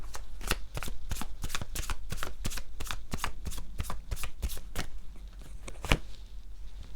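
Tarot cards being shuffled by hand, a steady run of crisp riffling flicks and slaps at close range, about a dozen sharp bursts over several seconds with no talking.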